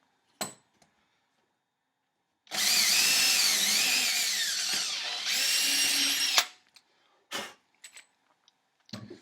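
A handheld drill bores string and ferrule holes through a guitar bridge with a whining bit for about four seconds, dipping briefly in the middle. Short clicks and knocks from handling come before and after.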